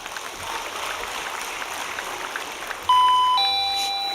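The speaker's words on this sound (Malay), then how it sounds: "Tutuplah loceng tu." A bell rings out during a political speech in a debate hall, a bright electronic ding-dong tone sounding sharply and then sustaining over a faint hall murmur.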